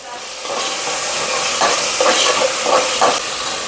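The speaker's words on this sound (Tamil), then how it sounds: "இந்த இஞ்சி, பூண்டு, வெங்காயம்லாம் அரைச்சோம் இல்லையா, அதையும் போட்டு நல்லா வதக்கி விட்டுடலாம்" Onion, ginger and garlic paste sizzles with curry leaves in a pan for country chicken curry. A loud, steady frying hiss fills the scene, with several short scraping stirs rising through it near the end.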